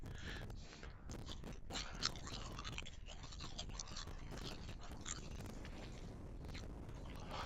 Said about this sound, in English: the crunching you've got in now isn't no electrical, it's me eating crisps